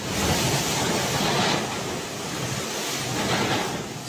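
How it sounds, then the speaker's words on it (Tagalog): Strong typhoon wind and heavy rain lashing Calbayog City, Samar, a loud continuous broadband roar that swells in gusts, with no voices. "makikita ang lakas ng hangin at ulan na bumayo sa Calbayog City, Samar"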